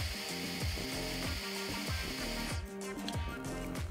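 Blow dryer for thick natural hair running in a cool-down cycle, a steady loud airflow roar with a repeating pulsing pattern throughout and no voice over it.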